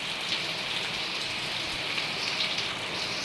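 Heavy rain pours steadily outdoors, a dense continuous hiss of drops striking surfaces at moderate distance, with no talk or other sounds over it.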